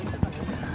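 A horse on a cabalgata trail ride in Mazatlán gives a single sharp hoof clop against a busy outdoor background with people talking nearby.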